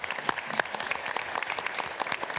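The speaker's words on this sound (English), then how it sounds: "A round of applause for her because" An indoor audience at a sheriff's office ceremony claps in a short burst of dense, lively applause with sharp individual claps standing out, alone without speech.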